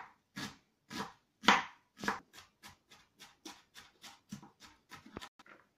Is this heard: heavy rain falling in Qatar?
no